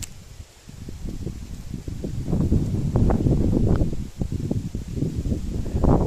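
Gusty wind buffets the microphone in a continuous low rumble near a forest after rain, swelling and easing in waves with faint rustling.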